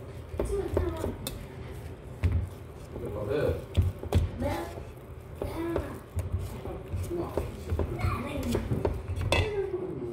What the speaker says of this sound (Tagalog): Mix well now, mga guys.